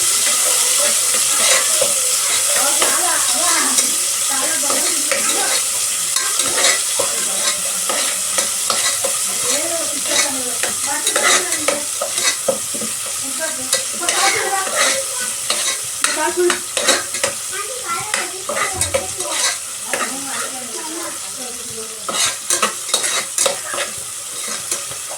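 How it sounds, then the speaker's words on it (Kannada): Onions frying in oil in a pan for chayote sambar, a steady close sizzle broken by repeated scraping stirs of a spatula, continuing throughout with no talking. "ಈರುಳ್ಳಿ ಸ್ವಲ್ಪ ಕಲರ್ ಚೇಂಜ್ ಆಗೋದು ಎಣ್ಣೆನ ಫ್ರೈ ಮಾಡ್ಕೊಳ್ಳಿ"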